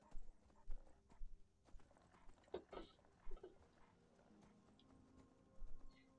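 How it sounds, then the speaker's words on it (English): Horse hooves clip-clop in the video game Skyrim while riding, bursts of quick hoofbeats recurring in clusters, with a brief whinny near the middle and quiet game ambience underneath. "I do enjoy, just riding a horse through Skyrim."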